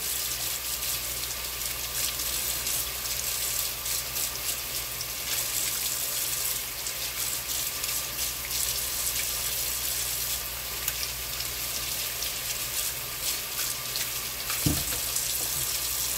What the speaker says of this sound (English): I just take that sponge and I just scrub my potatoes to get the dirt off of it